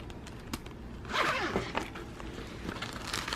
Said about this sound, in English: let's zip that back up.